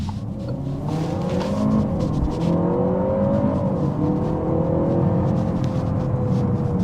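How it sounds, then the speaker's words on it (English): A Peugeot 508 Sport Engineered Hybrid4 360 GT petrol-electric engine drones steadily and loudly, its pitch rising and sweeping as it revs, with no talking over it. "with the petrol electric combustion, it has got a good sound"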